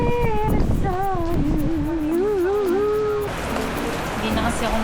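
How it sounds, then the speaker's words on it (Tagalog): Rain falls outdoors as a steady broadband patter that grows denser near the end, while a voice sings or talks over it. "Guys, umulan na."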